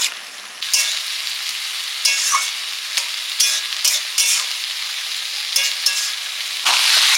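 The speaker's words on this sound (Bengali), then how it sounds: "এটা তো জলীয় সবজি, যত নাড়বো তত যেন জল জলে ভাব হয়ে যায়।" Bottle gourd and prawns are stirred in a frying pan, giving steady sizzling broken by repeated scraping stirs at a close distance, with no voices present.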